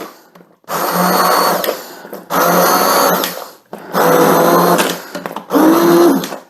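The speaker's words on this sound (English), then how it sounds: "And then with your immersion blender." An immersion blender whirs through bacon jam in four separate loud bursts, each lasting a second or more with short silent gaps, the motor pitch shifting as it works through the mixture.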